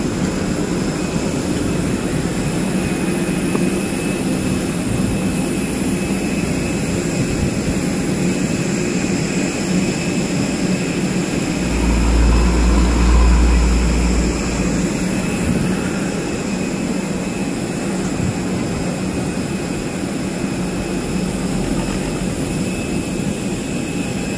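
An airplane engine in flight gives a steady, loud drone filling the whole stretch, a continuous low roar with a brief swell in the middle; no one speaks.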